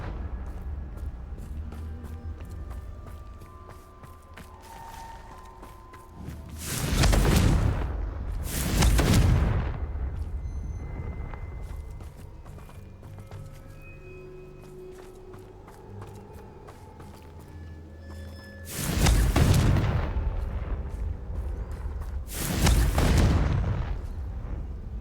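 Explosive spell blasts in Hogwarts Legacy: four loud booming bursts arrive in two pairs, each a broad crackling detonation rising out of a low ambient game soundtrack with faint footsteps between.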